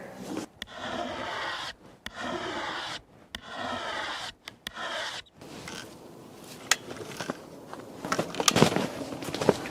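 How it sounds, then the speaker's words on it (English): Hand scraping of wood along the limb of an ash longbow during tillering, a series of dry rasping strokes in short bursts with brief pauses, close and moderately loud, growing busier and more scratchy toward the end. "for now, I need to just take more scrapes off here."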